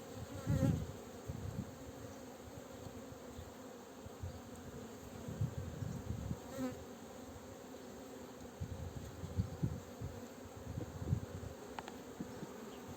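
A honeybee swarm hums at its hive in hot Antalya weather, a steady close drone of many buzzing bees with louder passes of individual bees near the microphone and no talking.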